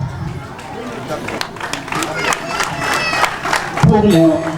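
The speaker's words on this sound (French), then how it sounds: "Je pense que cela mérite des applaudissements." Crowd applause at a school building handover ceremony in Benin, outdoor clapping mixed with cheering and chatter, growing louder toward the end as voices rise.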